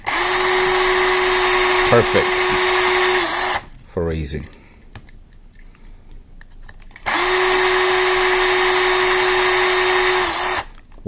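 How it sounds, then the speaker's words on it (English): A power drill with a 1/16 drill bit whines steadily while boring a pilot hole, running in two long bursts of about three and a half seconds each, loud and close, with a quiet pause between and someone speaking briefly over it. "1/16 drill bit. Do the pilot hole."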